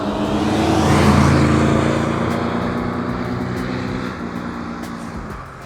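A 1955 Ford Thunderbird engine roars past close by, swelling loudly then fading away as it drives off into the distance.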